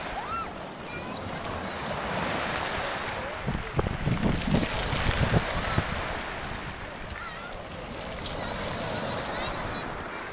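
Sea waves wash onto a beach in steady surf, with wind buffeting the microphone and a brief burst of splashing and people's voices partway through.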